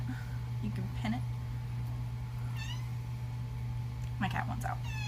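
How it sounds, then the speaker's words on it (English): A house cat meows several times to be let out, short plaintive cries spread across the moment over a constant low electrical hum, fairly close but not loud, with no talking in between. "My cat wants out."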